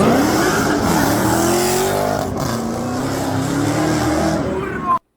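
A Dodge Hellcat engine revs hard and loud for about five seconds, its pitch rising and falling in sweeps before the sound cuts off abruptly.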